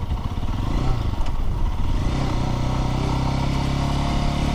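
A Lifan motorcycle, a small starter bike, idling and revving steadily up close, a loud continuous engine drone with mechanical clatter throughout.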